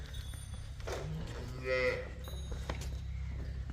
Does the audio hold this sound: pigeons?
no